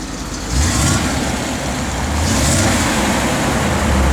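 A 1958 Chevrolet Apache truck's engine is revved, a deep rumbling idle swelling into a louder sustained roar, close by and steady with no talk over it.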